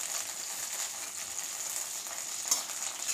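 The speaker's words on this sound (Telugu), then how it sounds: "నూనెలో వేయించుకోవాలండి." Ingredients for mint chutney frying in hot oil in a pan, a steady close hiss of sizzling that holds at an even level with no talk, and one brief sharper crackle midway through.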